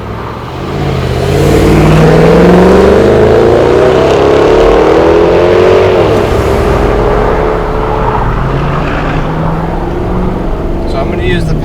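A 2011 Jaguar XKR's engine pulls hard on a race track, a loud in-car roar rising steadily in pitch through a gear, dipping at a shift and then climbing again, heard from inside the cabin.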